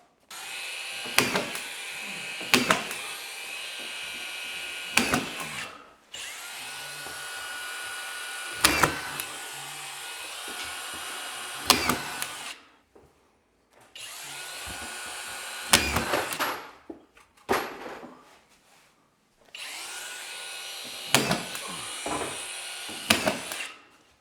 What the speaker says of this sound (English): So we're driving 1 1/4 drywall screws right now with it.